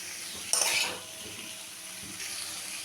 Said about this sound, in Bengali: অল্প করে একটু জল দিলাম